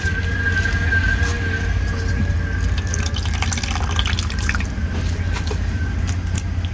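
Water drips and trickles steadily as food is squeezed by hand in a home kitchen, close and fairly loud, with no one talking.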